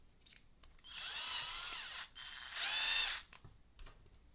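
A power drill runs in two steady bursts of about a second each, separated by a brief pause, with a high whining motor tone and no talking.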